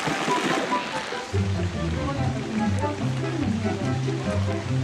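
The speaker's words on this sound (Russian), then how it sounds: "На самом деле день, просто буря пришла, штормовая." Storm rain pours in the video game ARK: Survival Evolved, a dense, steady hiss filling the whole stretch while someone talks over it.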